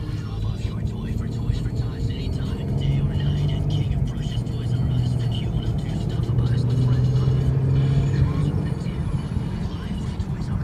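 A Ford Mustang accelerates from inside the cabin, its steady mid-pitched engine drone holding loud and constant throughout, with people talking over it.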